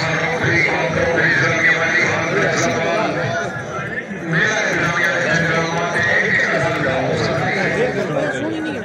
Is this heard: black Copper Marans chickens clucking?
no